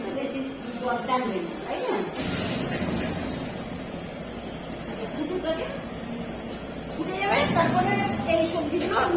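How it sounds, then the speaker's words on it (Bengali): Vegetables for shukto hitting a hot pan, giving a broad sizzling hiss that flares at the start and again near the end, with a person talking over it. "আমি এখন সবজিগুলো ছেড়ে দিচ্ছি"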